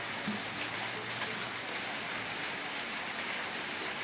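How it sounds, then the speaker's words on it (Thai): Rain falls steadily while a small field hut is being roofed, a constant close hiss of drops on a surface with a faint low hum underneath. "ฝนตกครับ"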